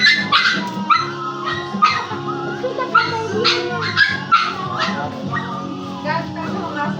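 A dog barks and yips in repeated sharp bursts at close range, mixed with whimpering, while people talk in the background.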